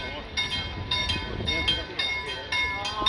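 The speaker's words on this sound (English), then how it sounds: "The train just comes so often." A train passes in Varberg, Sweden, with a steady rumble and a rhythmic clatter of wheels over rail joints, fairly close, and people talking over it.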